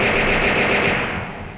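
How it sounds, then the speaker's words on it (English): Weapon in the From The Depths naval combat game firing a small group of shots, heard as a dense, continuous roaring burst with no gaps that stays loud throughout and fades slightly at the end. "You fire it, and it fires a small group of shots,"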